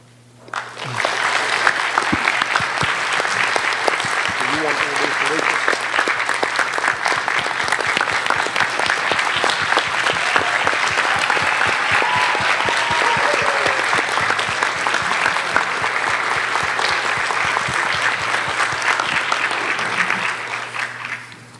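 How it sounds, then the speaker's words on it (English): Steady, sustained applause from an indoor audience honoring retirees at a Fannin County Schools recognition event, dense clapping lasting about twenty seconds before tapering off at the end. "if we could give one last applause to all of our retirees"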